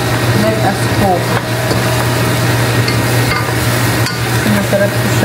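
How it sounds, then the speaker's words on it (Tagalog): Garlic, onion and ginger sautéing in a pan give a steady, continuous sizzle with stirring scrapes and a constant low hum beneath. "Igisa natin siya sa bawang, sibuyas, at ginger."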